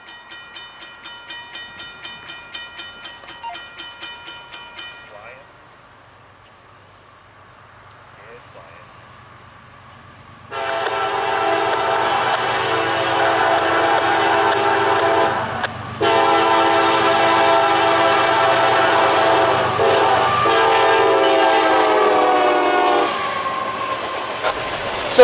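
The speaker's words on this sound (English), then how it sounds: "So that was 561 there, with the Seaboard Heritage locomotive." A CSX freight train led by a Seaboard Heritage locomotive in the Cincinnati area sounds a series of loud horn blasts, then rumbles and squeals past close by in a long, steady roar of rolling wagons.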